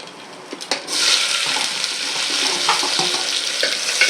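Chopped onions tipped into hot oil with fennel seeds in a home kitchen pan for a red meat curry, bursting into a loud, steady broadband sizzle after a few brief clicks and staying strong throughout with small crackles.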